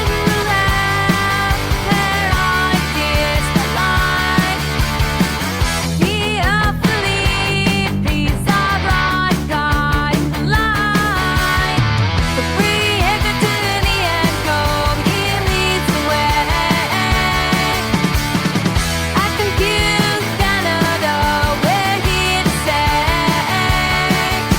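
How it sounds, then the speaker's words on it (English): A catchy AI-generated rock song with a full band texture, driving drums, bass and guitars plus what seems to be vocals, plays loud and continuous throughout, with a busier, brighter passage near the middle. "I can ask for a catchy rock song about the presentation I'm doing to you today"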